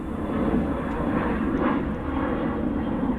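An airplane flies overhead outdoors, its engine a broad steady roar filling the scene at moderate loudness with no other sounds.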